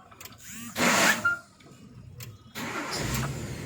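Nissan car engine cranking and catching after its ECU was repaired, a short loud burst of starting noise followed by a steady idle, with brief talk nearby.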